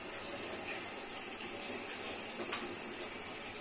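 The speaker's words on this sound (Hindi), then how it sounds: "इतना पानी डालूंगा जिसमें छलियां मेरी डूब जाएंगी।" Water is poured steadily into a cooking pot to cover corn cobs for boiling in a Pakistani home kitchen; a continuous gushing splash at close range with no talk.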